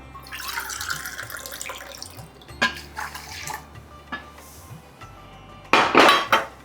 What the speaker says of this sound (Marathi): दोन कप पाणी घेऊया